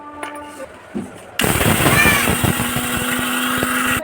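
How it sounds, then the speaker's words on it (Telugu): A mixie grinder starts abruptly and runs loud and steady as it grinds soaked, boiled rice into a fine powder, following a few quiet clicks and handling sounds. "వీటిని ఇప్పుడు నేను మెత్తగా పౌడర్లా పౌడర్ పట్టేస్తాను"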